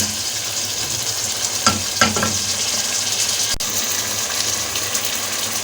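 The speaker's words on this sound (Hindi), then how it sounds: "ये देखें ये चिकन हो रही है हमारी फ्राई।" Chicken pieces fry in hot oil in a pan, giving a steady close sizzle with a few brief stirring scrapes and one sharp click, no talking.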